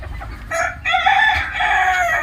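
Chickens in a coop cluck and crow close by, several overlapping bright, harmonic calls rising and falling in quick succession over a low background rumble.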